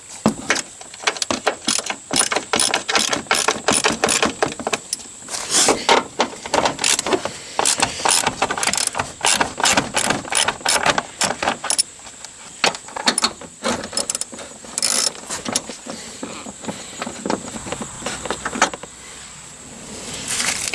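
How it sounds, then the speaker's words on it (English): Rapid ratcheting and wrench clicks come from removing six bolts beneath the front fender of a Jeep Wrangler, with metallic clatter in dense bursts that stay close and fairly loud throughout, then briefly ease near the end. "we're going to be removing 6 bolts."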